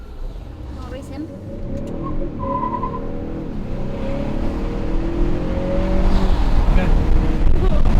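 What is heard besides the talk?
2021 Honda Accord 2.0T with PRL intake racing, tires spinning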